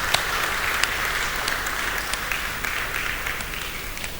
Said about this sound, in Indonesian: Mari kita sambut dengan tepuk tangan bersama.